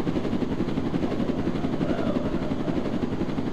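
A helicopter in a video game makes a steady, loud rotor and engine drone with a dense low-frequency rumble that holds unchanged for several seconds, with no talking over it.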